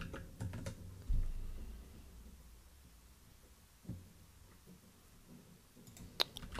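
Quiet, sparse taps on a computer keyboard are heard nearby, with a few louder clicks standing out over a low room hum and no one speaking.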